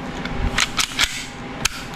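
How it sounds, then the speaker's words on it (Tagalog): A WE MEU 1911 airsoft pistol on low gas fires weak, short pops, several sharp snaps spaced irregularly and heard up close with no talk over them. "So, wala na kasing gas, kaya ganun na lang yung putok niya, no?"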